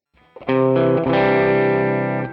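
An electric guitar through an Amalgam amp capture and a Fender 2x12 cabinet impulse response sounds distorted chords: a couple of quick picked hits, then a sustained, saturated chord ringing out loud and steady.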